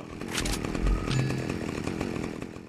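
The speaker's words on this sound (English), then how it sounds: "See if you can live through a chainsaw!" A chainsaw revs continuously in Saints Row 2 combat, a loud, steady buzzing drone with no talk over it.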